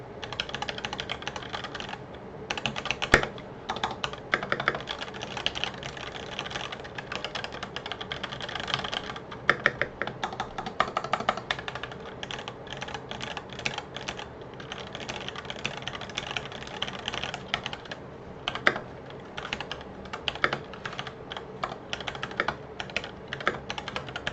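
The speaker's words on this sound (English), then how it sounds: "I'll just do a quick typing test to see what we think." Continuous rapid typing on a CA66 mechanical keyboard, close and steady clacking keystrokes with occasional louder hits, no voices over it.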